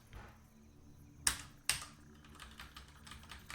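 Computer keyboard typing, a few light, quiet key taps with two sharper clacks in the middle, close against a low background hum.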